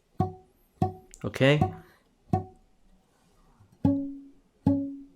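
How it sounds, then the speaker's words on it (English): Nylon or steel guitar strings plucked with the index finger near the bridge, four bright single-note plucks with ringing decay spaced across the clip, and one brief spoken word in between. "let's try to use the index finger to pluck the strings like this"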